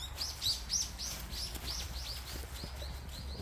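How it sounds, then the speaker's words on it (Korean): Small birds chirp in the woods, quick high tweets repeating in a loose, busy rhythm, fairly clear and moderately close over a soft outdoor background, with no talking. "새들도 많네"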